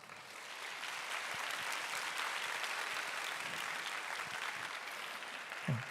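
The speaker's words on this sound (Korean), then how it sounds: "박수로 축복해 주시길 바랍니다." A young adults' church congregation applauds during a worship service, steady dense clapping from many hands that holds for several seconds, with a few low thumps near the end.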